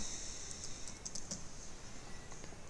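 Keys clicking on a computer keyboard during work in After Effects, a few light, close taps over a faint steady hiss, with no voices.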